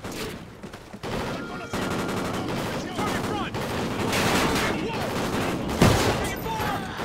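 Call of Duty Ghosts combat rattles with dense, overlapping bursts of automatic gunfire, shots stacking into a constant loud barrage with a sharper blast near the end.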